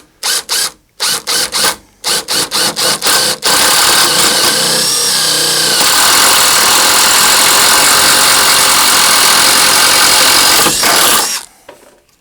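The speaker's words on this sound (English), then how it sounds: "that was just an example with the impact gun" A cordless impact gun driven by an aftermarket replacement battery gives several short bursts, then one long continuous whirring and hammering run, loud and close, with no talking.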